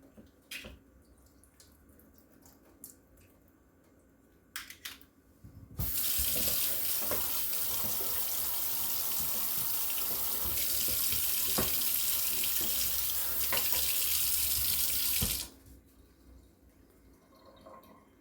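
Liquid drained from canned tuna pours loudly and steadily into a sink for about ten seconds, preceded and followed by faint clinks and handling noises.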